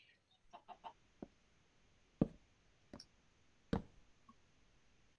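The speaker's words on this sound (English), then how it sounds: "What the hell is up with all the chickens in this game?" Chickens in the Minecraft video game cluck in short, scattered clicks and pops, a handful of sharp separate calls spread over several seconds against a quiet background, with no talk.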